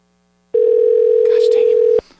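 A steady telephone dial tone sounds loud and continuous for about a second and a half while a phone number is being called, then cuts off abruptly and leaves a quiet line.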